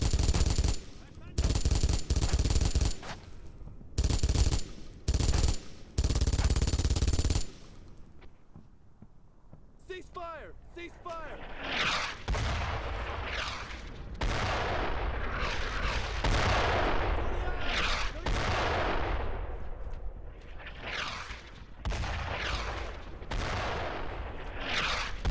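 Heavy MG42 machine gun fire in the Brothers in Arms: Road to Hill 30 video game, loud sustained bursts at first, then a dense chaotic firefight of gunfire and explosions continuing throughout.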